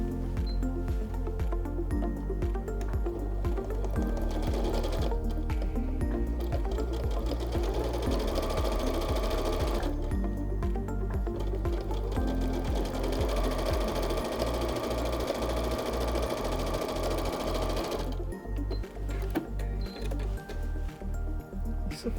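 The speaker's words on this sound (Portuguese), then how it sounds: "faz uma costura aqui de pé de máquina." A sewing machine runs in long loud bursts of rapid stitching, sewing fabric for a striped floral bag, with short pauses between seams and a rhythmic chugging near the end.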